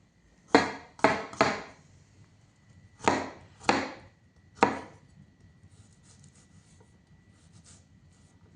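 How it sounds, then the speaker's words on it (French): A knife chops garlic on a cutting board in two bursts of sharp, close rapid strikes, three in the first and three in the second, separated by quiet pauses with faint background hiss and no speaking. "Je vais hacher l'ail."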